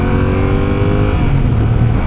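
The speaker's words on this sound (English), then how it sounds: "The engine is making all sorts of ride noises" A Fantic Caballero 700 scrambler motorcycle engine drones loud and close at steady revs while riding on the street, a continuous engine tone with no voices.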